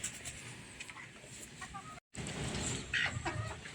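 Hens cluck faintly around their nesting boxes on a small farm, with short scattered clucks against a busy outdoor background and a momentary dropout midway.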